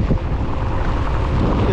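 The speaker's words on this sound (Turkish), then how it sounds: "Islak ve rüzgarlı." Strong wind buffets and roars against the microphone in loud, rumbling gusts during wet, rainy weather on a bicycle ride.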